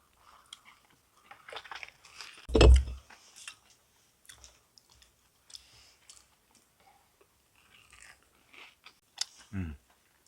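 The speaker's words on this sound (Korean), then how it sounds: "자, 케찹 바르고 먹어보겠습니다." Someone bites into a crispy mini cauldron-fried hotdog spread with ketchup, with one loud close crunch followed by scattered chewing clicks and a later wet bite, mostly alone in a quiet room.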